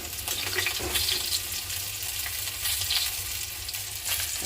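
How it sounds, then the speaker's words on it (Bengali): Fish fries in a pan with spices, a soft crackling sizzle with occasional stirring scrapes and faint watery bursts, steady and fairly quiet throughout. "মাছটা কত সুন্দর ভাজা হচ্ছে"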